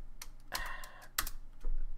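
Keys clatter on a computer keyboard during a tabletop card game session, with short bursts of clicks and a busier flurry in the middle, close and fairly clear against a faint low hum.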